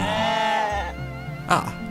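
Sheep in a field in the video game Runescape give a drawn-out, wavering bleat, loud and close, followed by a shorter bleat near the end.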